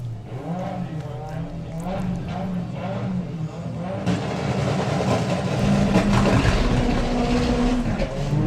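VW drag race cars launch at Santa Pod, engines roaring loud and steady before surging harder as they accelerate away, with a commentator talking over the noise.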